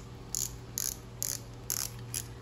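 A Japanese Shimano Ultegra or Daiwa spinning reel's line-roller clicker ratchet gives five short, bright clicking bursts at an even pace, sharp and close, with no talking.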